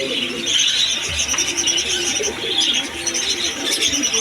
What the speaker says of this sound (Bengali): আপনারা এখানে আসলে বিভিন্ন জাতের কবুতর নিতে পারবেন।